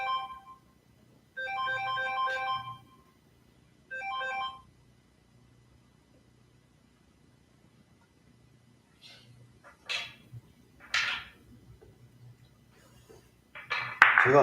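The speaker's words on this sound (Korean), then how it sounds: "전화 왔습니다." A mobile phone ringtone from an incoming call sounds in bursts during a billiards session, a melodic tone repeating three times and then stopping, followed by faint clinks and handling noises.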